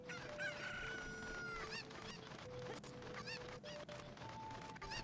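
Cuccos cluck and crow in Ocarina of Time, with repeated fowl calls alongside game music and other effects, steady and fairly loud throughout.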